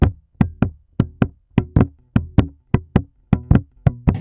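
An electric bass plays swing eighth notes, each one a sharp, percussive pluck in an even, lilting long-short rhythm, about a dozen notes on their own with no talk.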